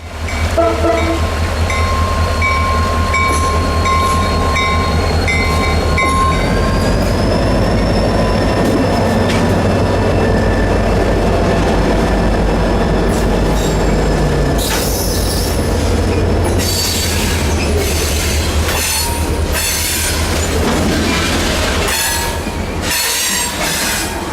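A CSX local freight train rumbles past at close range over Soldiers Creek, steady heavy wheel noise with squealing flanges and metallic clanks growing busier toward the end.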